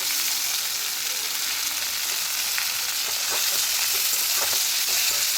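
Drumstick stems sauté for a potato curry with a dense, steady sizzle in a pan, with light stirring clicks growing more frequent toward the end and no voices.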